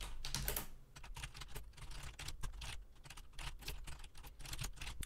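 Rapid, continuous typing of C code on a computer keyboard, dense close-up clatter of keystrokes with barely a pause, no voices.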